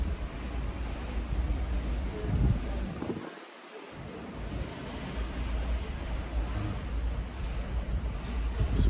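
Ocean waves and wind sweep past a cruise ship veranda en route to Nassau in the Bahamas, a constant loud rushing roar with gusty low rumble and a brief dip in the middle.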